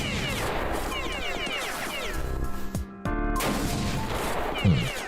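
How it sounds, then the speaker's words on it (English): Dense video-game gunfire from automated turrets, a rapid fusillade of loud overlapping shots with crashing impacts, briefly dropping out before resuming at full intensity. "Who else is still shooting at me? Just these turrets?"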